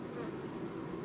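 A dense, steady buzz of many honeybees at a hive close by, a continuous loud droning hum with no pauses.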